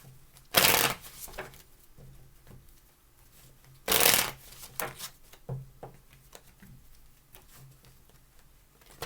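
Tarot cards are shuffled by hand in two strong riffling bursts, each followed by softer taps and card slides, close and quiet in an otherwise still room.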